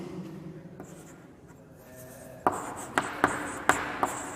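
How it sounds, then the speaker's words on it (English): Handwriting of a math set partition, a faint scratchy stroke sound that turns into sharper taps and strokes, a run of distinct marks in quick succession near the surface. "So we can write the partition."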